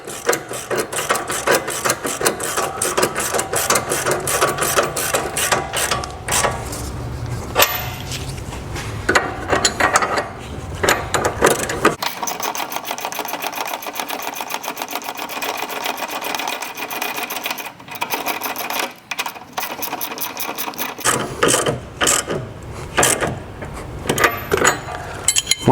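A ratchet and socket tightening the front nut on a UPR billet rear sway bar end link of a 2015+ Mustang, giving loud, close bursts of rapid clicking with short pauses between runs.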